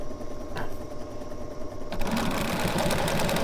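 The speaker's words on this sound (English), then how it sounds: "I sew right off." A sewing machine with a 97D quarter-inch foot stitches a quilting seam, starting with a light, slower run and then settling into a fast, steady mechanical whir of needle strokes, close and alone.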